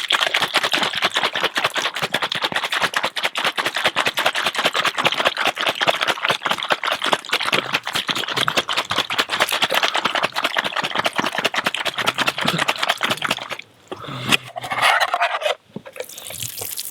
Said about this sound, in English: I'm just going to give them a good rinse now.